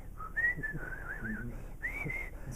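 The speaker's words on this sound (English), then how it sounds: "I whistle the music and record it." A man whistles a short tune for an interviewer, bright wavering melodic phrases with a brief pause midway, close and clear over faint room noise.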